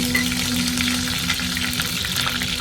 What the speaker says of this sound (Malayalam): കറിവേപ്പില ഇട്ട് കൊടുക്കാം